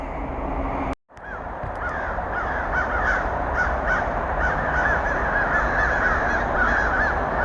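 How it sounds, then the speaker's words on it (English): Crows call across the woods in repeated harsh caws, several birds overlapping at middle distance over a steady background hiss, after a brief dropout near the start. "I know crow calls, but when you have crows in the woods, they're scavengers, and they just came flocking"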